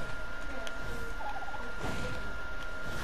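A bird in the video game ARK calls with a short gobbling, turkey-like burst over steady game ambience, fairly faint and alone without talk.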